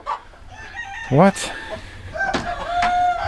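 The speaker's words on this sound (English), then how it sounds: "there's 4 hens in here and 1 rooster" Four hens and a rooster in a farm pen in December: a loud rooster crow rises and falls near the middle, with hen clucks and squawks around it and a person speaking briefly.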